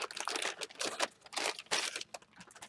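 A duct-taped bag holding yarn is torn open and crinkled, giving a run of close, crackly plastic rustling bursts in irregular clumps, loud and uneven from start to finish.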